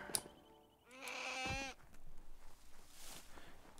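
A goat-like creature bleats in the game Biomutant, one loud, wavering bleat up close after a brief sharp sound, followed by a quieter ambient bed of the game world.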